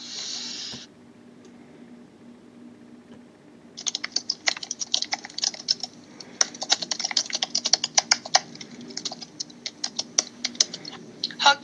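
Fingers type on a computer keyboard in quick, uneven bursts of crisp clicks that carry on over a faint background hiss, following a short tone and a few seconds of near quiet.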